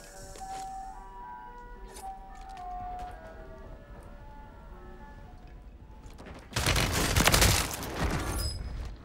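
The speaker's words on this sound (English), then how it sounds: "Bro, this goddamn ice cream man outside." An ice cream truck jingle on Rebirth Island in Call of Duty Warzone plays as faint, tinkling melodic notes from outside. A loud burst of gunfire cuts in near the end.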